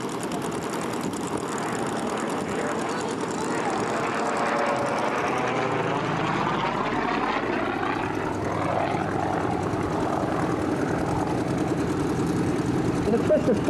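A Yakovlev propeller aircraft performing aerobatics at an airshow drones steadily with rising and falling engine pitch as it manoeuvres, while a commentator talks over it.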